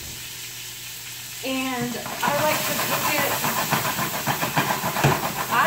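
Spanish white bean soup simmering and sizzling steadily in a pot, a constant close bubbling hiss that swells a little louder after a couple of seconds, with one brief spoken word near the start.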